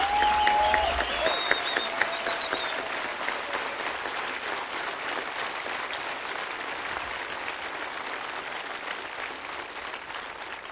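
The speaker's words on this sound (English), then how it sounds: "Please, a big round of applause for our conductor, David Furman." Concert audience applause for the conductor at an outdoor rock show, a dense, sustained crowd clapping that holds steady and slowly eases, with a brief voice or tone at the start.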